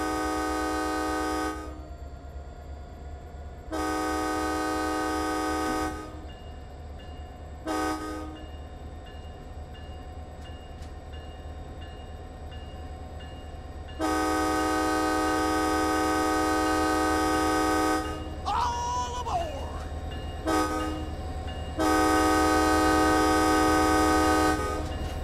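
MBTA F40PH-3C diesel locomotive moving on a Boston line in a train simulator, a low engine rumble throughout with several long, loud horn blasts, one short blast, and a brief squeal in between.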